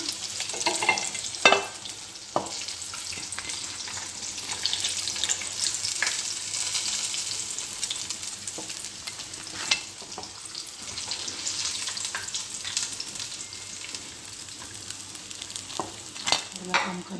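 Chicken broast without bread crumbs deep-fries in oil, a dense hissing sizzle that runs steadily throughout with occasional louder bursts and small clatters, close and continuous.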